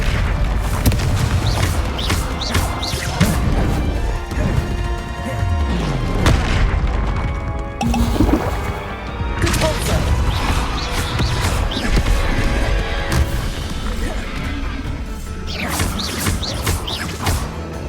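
Blasting spells and explosions in Hogwarts Legacy combat, repeated booms, crashes and magical impacts layered over a continuous game score, dense and loud throughout with brief lulls.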